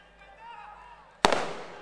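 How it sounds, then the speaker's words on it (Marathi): Firecrackers burst suddenly at an outdoor political rally, one sharp loud crack followed by a brief crackling tail after a stretch of murmuring crowd noise. "आता बस करा फटाके, जरा जिंकल्यानंतर लावा"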